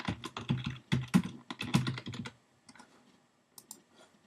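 Close, quiet typing on a computer keyboard: a quick burst of clicking keystrokes for about two seconds, then silence broken by a few isolated taps.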